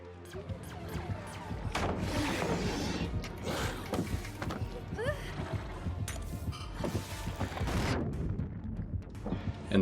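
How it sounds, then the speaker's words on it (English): Flashbangs and similar bursts in the online horror game Dead by Daylight, a string of sharp bangs and clattering hits over a busy game-sound bed, with a voice talking faintly underneath. "Here's what a CJ tech looks like using a flashbang."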